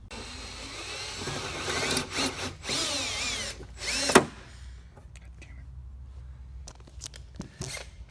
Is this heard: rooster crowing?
no